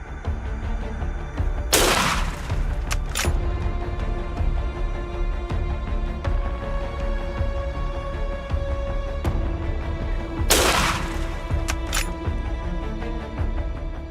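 Two sharp gunshots from a hunter out on a lion hunt, each a loud crack with a short echoing tail, several seconds apart over a steady low background hum.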